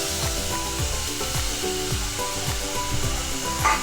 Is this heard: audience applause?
no